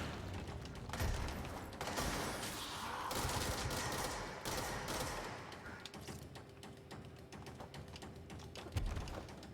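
Rockets and weapons fire during combat in the video game Control, a dense run of thuds, blasts and rattling gunfire layered over a low rumble, fairly quiet overall with a heavier burst near the end.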